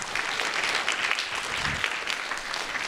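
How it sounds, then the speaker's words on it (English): A conference audience claps steadily throughout, a dense wash of many hands at close range with no talk over it. "This is called clapping."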